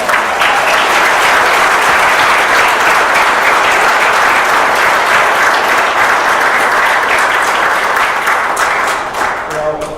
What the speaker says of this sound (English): I think he deserves a special round of applause